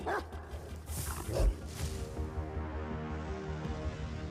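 Dogs bark in a Hindi-dubbed action film scene, their yips and howls mixed into a dense, steady wash of background sound and music.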